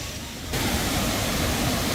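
Aliwagwag Falls in Cateel, Davao Oriental pours with a dense, steady roar of falling water that swells louder after the first half second and stays continuous and close, with no voices.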